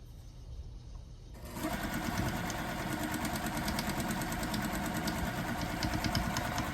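A sewing machine stitches a Kona cotton quilt block, starting after a quiet moment and then running as a steady, close, rapid mechanical whir with a fast rhythmic needle clatter.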